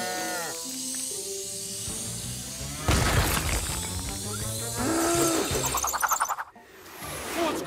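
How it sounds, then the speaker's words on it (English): Cows in a cartoon moo loudly, several drawn-out lowing calls one after another amid busy animated sound effects, whooshes and a bright jingle. "Sky, we've got a herd of cows flying a farmhouse!"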